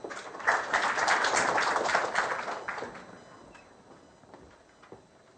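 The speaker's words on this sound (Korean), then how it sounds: "성준이 앞으로 나와서 박수 한번 쳐주세요" Students in a university lecture room applauding, a burst of many hands clapping that swells quickly, holds for about two seconds, then fades into scattered claps and room noise.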